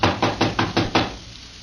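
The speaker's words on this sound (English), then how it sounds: "Well, let's try knocking." Six firm, evenly spaced knocks strike a locked wooden door in an old house, loud and close, followed by silence.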